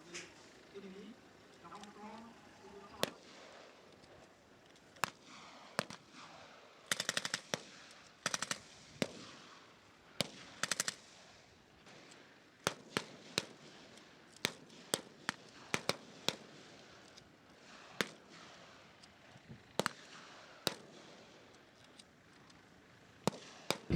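Scattered bursts and single cracks of small-arms gunfire in a combat exercise, some clustered, others isolated, fairly distant and mixed with faint background activity.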